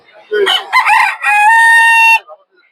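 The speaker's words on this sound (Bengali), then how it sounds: "দর্শকের জায়গায় কিছু মুরগি দেখতে পাচ্ছেন" At a poultry market, a rooster lets out a single loud, close crow, starting with rough clucking notes and ending in a long sustained call.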